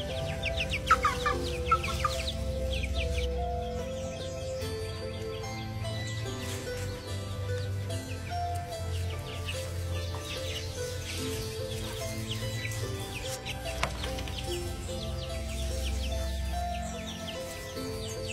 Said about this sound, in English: Chickens are fucking awesome.